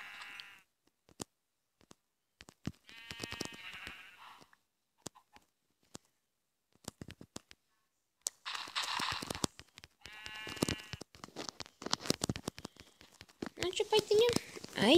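Sheep in the Minecraft PE video game bleat in short repeated cries, scattered between clicks and footsteps, with brief bursts of other game noise; no voices over the calls.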